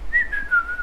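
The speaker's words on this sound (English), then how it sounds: "Can you whistle a little?" A person whistles a single short, clear note that glides slightly downward, close and fairly loud, lasting under a second.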